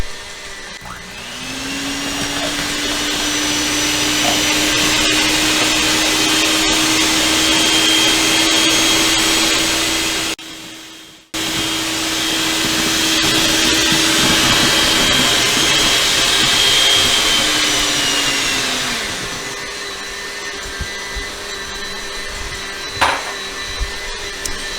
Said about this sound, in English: we will start whipping our egg whites